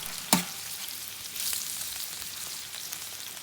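A head of garlic fries in olive oil in a pan over a wood fire, with steady soft sizzling and a sharp clack as it goes in near the start.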